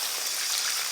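Water is poured into a pan of fish curry cooking with mustard paste and green chili, making a continuous bright, hissing splash that stays steady for the whole moment.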